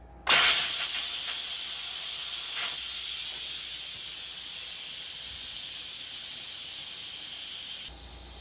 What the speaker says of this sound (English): Once the Instant Pot has finished, you got a quick release.